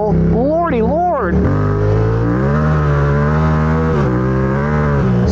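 A motorcycle rides over gravel, its engine a loud, steady drone that swoops up and down in pitch with quick revs at the start, then holds a constant throbbing note with brief shifts.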